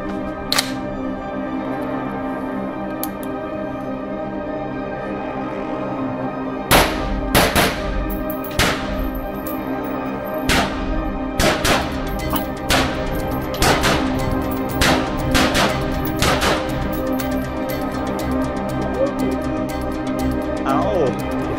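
Tuned Covertech airsoft guns test-fired in a rapid series of sharp cracking shots, about a dozen irregularly spaced bursts over a steady background hum.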